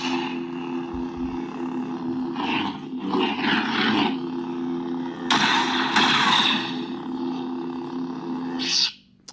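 An Oggdo Killer Gen2 lightsaber ignites and hums with a steady tonal drone, broken by loud swelling whooshes and crackling bursts, close, then cutting off abruptly near the end.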